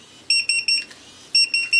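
Electronic beeping in short bursts from a TD172 paging system pager: three or four quick high tones, a brief pause, then another run of beeps. Close and clear, no voices.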